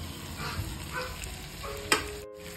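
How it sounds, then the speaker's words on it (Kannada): Boiled, cut potatoes are tipped into a pan of sizzling tomato masala and stirred, with a close, steady fry under scattered scraping clinks and one sharp knock of the spoon. "ಇವಾಗ ನಾನು ಬೇಯಿಸ್ಕೊಂಡು ಕಟ್ ಮಾಡಿ ಇಟ್ಕೊಂಡಿರೋ ಆಲೂಗಡ್ಡೆನ ಇದಕ್ಕೆ ಹಾಕ್ತಾ ಇದ್ದೀನಿ"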